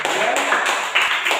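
Classroom applause for the students rises as a dense, steady patter of many hands clapping together, close and loud, with a bit of noisy chatter mixed in.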